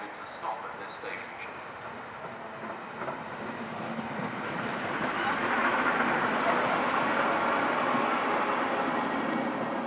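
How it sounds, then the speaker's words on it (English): A non-stopping train passes through platform 6 at Guildford station, a steady broadband rumble and rattle swelling from about four seconds and holding loud and close to the end, after faint platform sounds. "The approaching train is not scheduled to stop at this station."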